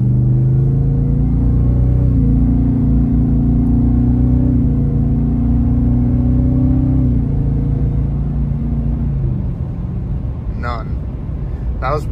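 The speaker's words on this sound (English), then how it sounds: "the first thing I'm gonna do is light acceleration, about half throttle, so you guys can hear that you don't hear any supercharger" A Ford Raptor R pickup with stock intake accelerating lightly at half throttle, a deep steady engine rumble rising in pitch through gear changes before easing off, with brief chirps near the end.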